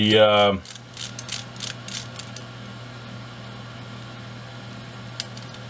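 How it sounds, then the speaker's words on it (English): Onyx screwdriver turning screws on an RC brushless motor, a steady close ratcheting and clicking after a short hum at the start, with a faint background whir. "this screwdriver kit I'm using here is it's a Onyx screwdriver setup."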